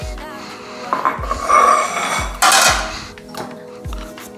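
Coriander seeds and mixed spices ground in a mortar for a homemade BBQ chicken marinade, giving repeated thudding pestle strikes with gritty crunching and scraping in between, close and fairly loud.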